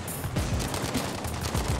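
Battlefield 5 video game gunfire: a rapid burst of repeated sharp shots, close and loud, firing in a quick irregular rhythm for under two seconds with no talk.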